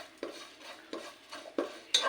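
Grated coconut is stirred while it roasts in a pan over a medium flame, making four soft, scraping strokes at a steady pace, close and quiet, with no voices.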